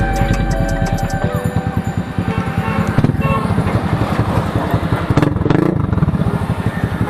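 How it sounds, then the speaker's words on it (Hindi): A TVS Ntorq scooter fitted with an SC Project aftermarket exhaust revs steadily up close, its engine note loud and continuous with rapid pulsing and a brief rise partway through. "ऊपर एग्जॉस्ट नोट सुन लो"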